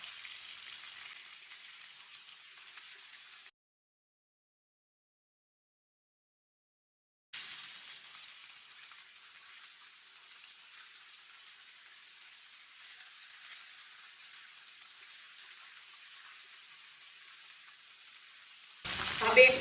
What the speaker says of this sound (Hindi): चिकन हमारा फ्राई हो चुका है।